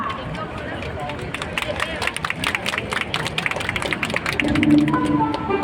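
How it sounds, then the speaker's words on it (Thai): An audience at a ballet and jazz show in a mall claps, with steady applause and crowd murmur swelling toward the end, while someone speaks over it on a PA. "ขอเสียงปรบมือให้กับโชว์แรกของเราด้วยค่ะ"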